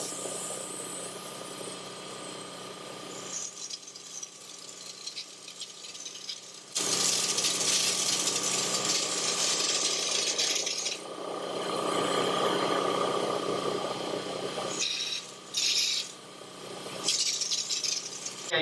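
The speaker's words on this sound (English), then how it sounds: "I put a little bit in the gun, and I'm gonna try and see how it sprays." Spray gun spraying budget bed liner coating onto a Jeep floor, loud hissing bursts of air and coating starting and stopping in several long pulls over a steady compressor-like rattle.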